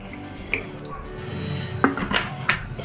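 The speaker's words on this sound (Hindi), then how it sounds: "इसको पानी से वॉश कर लेंगे। पानी डाल देती हूँ।" Vegetables for tomato bharta are washed with water in a pot: metallic clinks and knocks of the pot, splashing and dripping water, with scattered sharp clatters in the second half and no speech.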